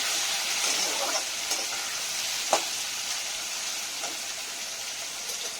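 Tomatoes being stirred into a frying upma mixture, with a steady close sizzle and occasional scraping clinks of a spoon against the pan.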